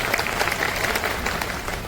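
Audience applause at a stage event: dense, steady clapping from a crowd filling the whole moment without a break, fairly loud and even.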